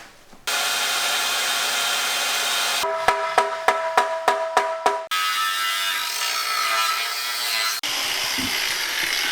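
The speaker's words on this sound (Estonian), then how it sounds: "Sinna puurime augu." A power drill whirs steadily in long runs while drilling a hole in an Audi S5, with a stretch of sharp, evenly spaced clicks in between.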